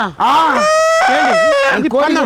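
A Kadaknath chicken calls loudly and close by with drawn-out, strained vocalizations, several in quick succession with barely a pause.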